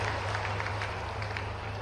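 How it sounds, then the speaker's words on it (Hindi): Loud, dense applause from an audience at a public ceremony honouring promising young scholarship students, steady for about two seconds with no gaps. "बस जोरदार तालियां हमारे इन होनहार युवकों के लिए"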